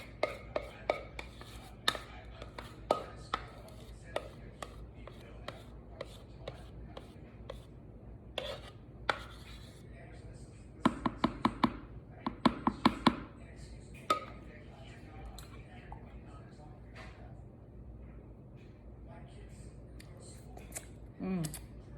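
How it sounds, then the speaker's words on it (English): A spatula scrapes a thick, unchurned homemade ice cream mixture in a bowl, making soft irregular scrapes and light taps at close range, with a few denser bursts partway through and quiet gaps between. "I'll use the spatula for the rest. Just scrape it."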